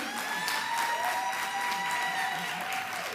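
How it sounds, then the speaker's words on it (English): Steady audience applause fills a hall at a public sector debate competition grand finale, a continuous dense wash of many hands clapping with no talk over it. "Keep that applause going,"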